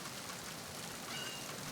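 Steady rain hiss in Metal Gear Solid 2, a soft, even wash of falling drops with no voices over it.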